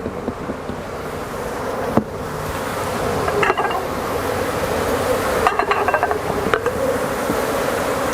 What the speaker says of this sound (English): As you can see, the bees got very agitated.